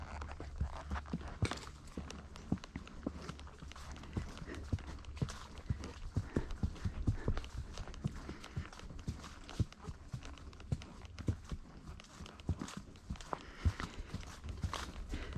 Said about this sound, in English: Horses always know the way home.